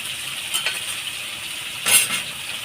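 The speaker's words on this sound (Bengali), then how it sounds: "এটা ভাজা ভাজা করব" Snake gourd pieces fry in a pan after a nigella seed tempering, producing a quiet, even hiss with a few faint utensil clinks and one louder scrape near the end.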